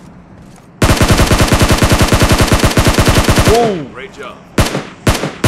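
A SCAR assault rifle fires in PUBG Mobile in a long, loud, close automatic burst of rapid, evenly spaced shots. A few scattered single shots follow, and a voice briefly exclaims.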